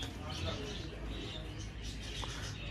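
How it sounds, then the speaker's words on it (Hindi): Sialkoti rooftop pigeons coo softly and steadily, a low continuous murmur of calls with a faint higher chirp, heard close against a busy outdoor background. "इस वीडियो में मैं आपको सियालकोटी छत वाले कबूतरों का शौक करवाऊंगा"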